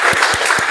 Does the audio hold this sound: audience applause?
yes